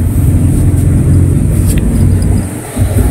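A 42-seat Volvo 9100 coach bus, 11.5 metres long and run by WBTC, gives off a steady, loud low engine rumble that dips briefly near the end and carries on with no talk over it.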